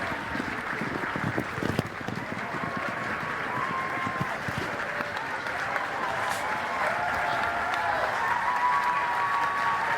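A crowd at the Royal Welsh Show's main ring applauds and cheers for the lead rein class, steady clapping from a distance with people talking over it.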